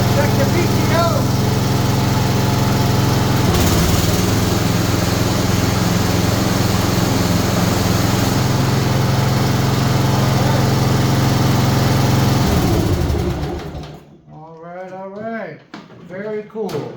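A Bolens ST120 hydro-drive garden tractor engine runs steadily and loud with the PTO engaged, a continuous close drone for most of the span that cuts off near the end, followed by someone talking.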